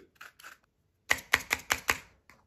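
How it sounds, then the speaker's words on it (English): A sharp knife cuts around the rim of a plastic coffee pod, giving five quick crisp clicks in a tight row after a couple of softer scrapes, close and alone in a quiet room. "cut around the rim, exposing the inside where you'll find the coffee remains and empty them out"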